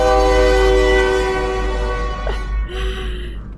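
A loud, sustained train horn blaring close by from a passing train in the Star Wars: The Old Republic video game, its tone sliding and fading as the train rolls on with rumbling rail noise underneath.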